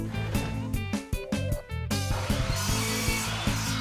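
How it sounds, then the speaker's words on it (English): A miter saw cuts cedar back slats for an Adirondack chair, its motor whine broken by sharp bursts as the blade bites the wood, then a steady hum running alone. "I'm now gonna cut the back slats, the ones that will run vertically, to rough length on the miter saw"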